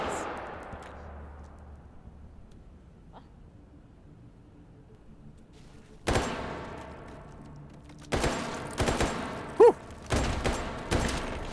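Bursts of gunfire in a first-person shooter with limited ammunition, loud rapid volleys starting around six seconds and repeating several times after a quiet stretch; one brief exhaled remark early on.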